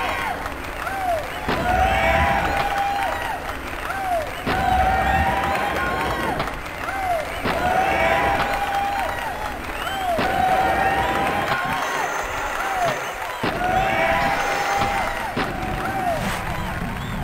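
Loud, repetitive crowd cheering and applause from a Tony Hawk's Pro Skater prototype on PlayStation, looping in swelling waves with occasional thuds and game effects, continuous throughout.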